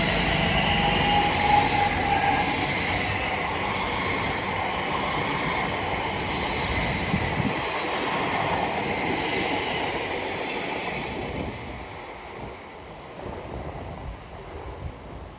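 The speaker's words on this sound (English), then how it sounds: "Arriving now is C1716, Elizabeth Line service from Shenfield to Heathrow Terminal 5." Elizabeth Line train from Shenfield to Heathrow Terminal 5 arriving at Stratford station, a steady rumble of wheels and carriages with faint squeals that fades toward the end.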